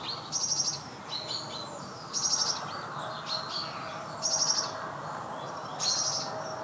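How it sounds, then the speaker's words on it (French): Birdsong: a small bird repeats brief high chirping phrases at regular intervals over a faint, steady outdoor background. "un chant d'oiseau"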